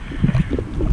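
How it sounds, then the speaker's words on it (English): Wind gusts buffet the microphone outdoors, a brief low rumbling whoosh without any voices. "it's windy out here today"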